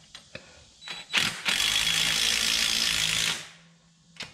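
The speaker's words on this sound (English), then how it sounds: "Again, you want to tighten up your U-bolts in a cross pattern." Quick ratchet clicks start and stop, then a steady two-second burst of ratcheting follows as a wrench tightens the leaf spring U-bolts on a 2016 EZGO RXV golf cart, close and loud, ending with a final click.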